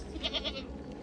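A goat bleats in a short run of three quick, nasal, wavering calls, close and fairly loud, trailing off into quiet background.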